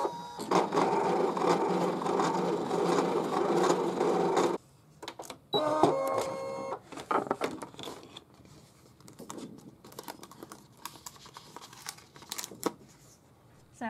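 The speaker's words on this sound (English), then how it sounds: "we just want to choose the cut function to cut that out" A DesignNCut DC200 cutting machine cuts yellow cardstock on its mat, starting with a steady motor whir and buzz for several seconds, then stopping before brief clicks and softer mechanical movements and faint rustling.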